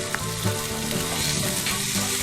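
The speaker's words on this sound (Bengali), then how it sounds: "একটু আগে পেঁয়াজ আর টমেটোটা ফ্রাই করে নিচ্ছি" Chopped onion and tomato fry in hot oil for a Bengali katla vapa, giving a steady close sizzle with small crackles and faint stirring, no voices.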